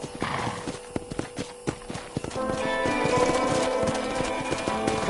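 Hooves of a horse in the Western game Red Dead Redemption clip-clop at a steady gallop, close and clear, with a short whinny partway through and a rising wash of background ambience in the later half.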